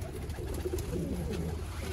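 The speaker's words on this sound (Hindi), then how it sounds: "एक बहुत अच्छी कैटेगरी का कबूतर है" A Mian Nazir bloodline pigeon coos softly in low, rolling murmurs at close range, over a steady background hum with no talking.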